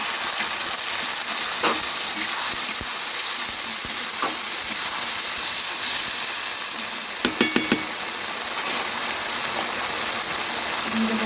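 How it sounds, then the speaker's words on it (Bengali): A paste of green chili, tomato and onion frying in a pan, giving a constant dense sizzle with a few sharp utensil taps partway through. "টমেটো, পেঁয়াজ একসঙ্গে পেস্ট করে নিয়েছি। ভালোভাবে কষিয়ে নেব।"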